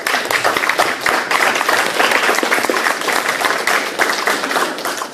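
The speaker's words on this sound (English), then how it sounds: "Definitely everybody give them a round of applause." An audience claps for the panel at a live syndicated-investment roundtable in Long Beach: dense, sustained applause from many hands, loud and even for about five seconds, with no talk.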